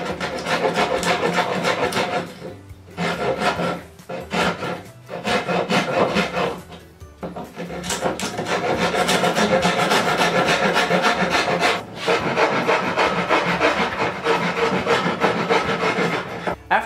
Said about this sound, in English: take a rasp and just clean up your edges